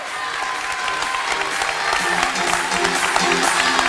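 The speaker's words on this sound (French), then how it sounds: "Je vous demande donc de les applaudir très fort" Audience applause fills a Miss France election hall, a dense, steady clapping from a large crowd that swells slightly louder toward the end, with a few cheers mixed in.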